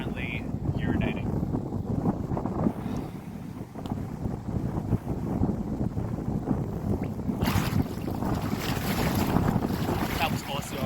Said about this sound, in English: Struggling with the wind as well.